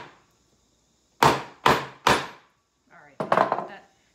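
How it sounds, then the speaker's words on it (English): Three sharp hammer blows knock a nail down into a rustic 2x4 wood pumpkin craft, evenly spaced and close, followed by a brief clatter of a tool being set down. "So I smacked it with a hammer and knocked it down."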